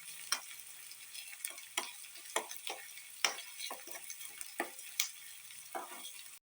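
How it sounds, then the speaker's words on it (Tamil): Onions frying in a pan until crisp, a quiet bed of sizzle punctuated by frequent sharp crackles and spatula taps in an irregular rhythm, close up with no speech. "கொஞ்சம் கிறிஸ்பாக வறுத்து எடுத்துக்கலாம்"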